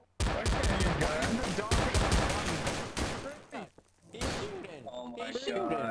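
Rapid gunshots in the video game Garry's Mod DarkRP, a burst of loud close shots at the start followed by scattered shots and thumps, with people talking over the firing.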